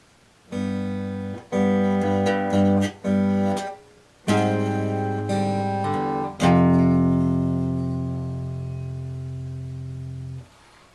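Guitar chords strummed slowly, a few short chords in turn before a final one rings out and fades.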